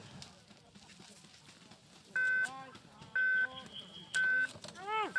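The start buzzer for a Paralympic alpine skiing downhill race in Beijing gives four loud electronic beeps about one second apart, the last one longer, over a low murmur of background noise.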